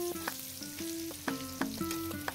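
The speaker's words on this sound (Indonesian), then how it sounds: "Ikan teri ini digoreng sampai kering ya teman-teman." Dried anchovies fry in hot oil with a steady, close sizzle, broken every so often by the sharp scrape and clatter of a spatula stirring them.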